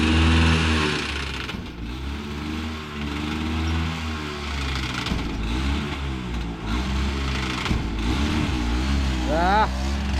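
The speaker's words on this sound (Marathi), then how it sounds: "चला फायनली रिक्षा चालू झाली आहे" An auto rickshaw engine runs after a hard start during heavy Konkan rain, a throbbing mid-pitched putter that rises and dips with revs, close by and continuous under a voice.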